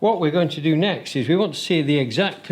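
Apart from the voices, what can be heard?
None of the usual background noises is heard.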